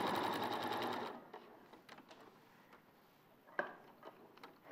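A domestic sewing machine set running with its foot pedal, a loud steady whir of stitching lasting about a second and then stopping, followed by quiet handling clicks and small knocks.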